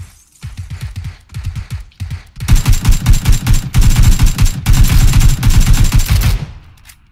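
Automatic rifle fire in a video game rattles out in long, loud, rapid bursts, with a few shorter volleys first, then a sustained stream of shots that cuts off just before the end.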